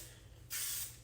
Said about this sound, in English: I'm just trying to get some hairspray all over the whole thing.